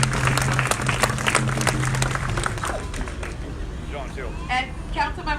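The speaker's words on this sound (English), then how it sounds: "Can we give them all a round of applause?" An audience claps at the renaming ceremony for the Fishing Wars Memorial Bridge, a dense, loud burst of applause that thins out after a few seconds as voices begin speaking.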